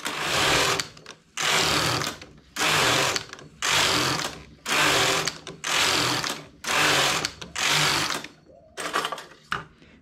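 A knitting machine working rows, its carriage sliding back and forth in about eight loud, regular mechanical sweeps separated by short pauses, with rattling and clicking under each pass.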